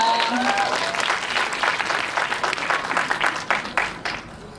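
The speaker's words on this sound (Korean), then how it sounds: "박수 한번 부탁드리겠습니다." A cinema audience at a film guest-visit event applauds loudly and continuously, a dense wash of many hands that gradually thins out over several seconds, with faint voices underneath.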